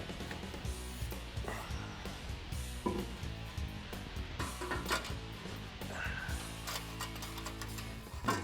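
A ratchet tightens an exhaust clamp on the mid-pipe of a 2007-2013 Silverado/Sierra 4.8L being fitted with a Corsa 3" exhaust, giving steady repeated mechanical clicking close by with no talking.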